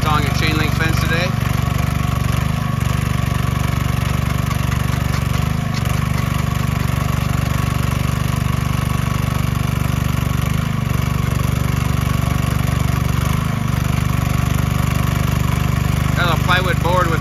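A Little Beaver earth auger engine runs steadily throughout, a mid-pitched motor drone with faint rhythmic load changes as it drills fence post holes for a chain link fence, loud and continuous.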